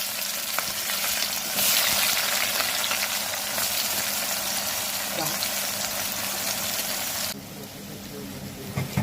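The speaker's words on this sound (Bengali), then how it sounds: "আর দেবো টুকরো করা পেঁয়াজ।" Chopped onions hit hot oil and ghee with whole garam masala and bay leaves, giving a loud, continuous, close sizzle that drops in intensity near the end.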